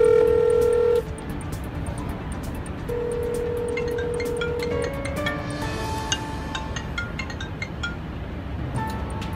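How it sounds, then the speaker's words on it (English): Phone-network tones as a call goes out to a cell phone: a steady tone, then a longer second tone, followed by a rapid run of short dialing beeps and ringing pulses over a constant background hum, with no talking. "So at this point, it's calling a cell phone."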